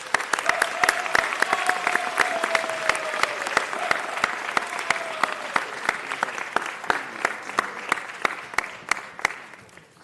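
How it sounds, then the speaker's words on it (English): A crowd in Los Angeles applauds Gina, with sharp, distinct claps ringing out over a continuous bed of clapping for about ten seconds and easing slightly toward the end. "Let's give her a round of applause."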